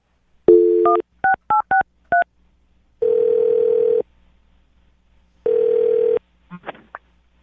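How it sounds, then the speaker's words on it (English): A telephone number is dialed as a quick run of separate touch-tone beeps, followed by two long steady line tones with a pause between them, then a short electronic warble. All of it is clear and close, with no talking. "I'm going to dial his phone number right now"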